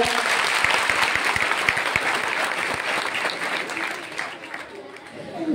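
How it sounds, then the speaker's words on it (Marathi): Sustained audience clapping at an educational guidance camp in Mukutban, dense and steady for several seconds before thinning slightly near the end. "तुम्ही एक स्वतःसाठी जोरदार टाळ्या वाजवा एक वेळा."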